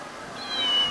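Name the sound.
cat meow sound from arcade machine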